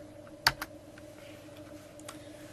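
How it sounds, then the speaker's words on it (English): Typing on a computer keyboard to enter a Google search, a couple of distinct key clicks near the start followed by faint scattered taps, close and quiet with no talking. "So just type in Google."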